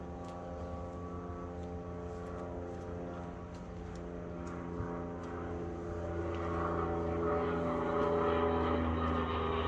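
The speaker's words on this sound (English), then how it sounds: "Airplanes fly over at all the time, interrupt my recording." Aircraft flying over near an airport runway: a steady propeller-like engine drone with layered harmonics, growing slightly louder toward the end as it passes, with no talk.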